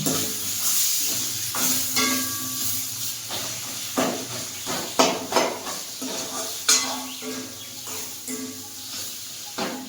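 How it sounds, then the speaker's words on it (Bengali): Spices with salt and turmeric are sautéed in a pan for a gathi kochu and hilsa dish, with repeated close scraping and knocking of a utensil against the pan over a soft frying sizzle. "এবার আমি মশলাটাকে কষিয়ে নেব"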